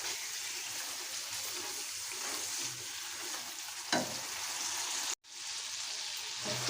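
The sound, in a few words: chicken karahi frying and stirred with spices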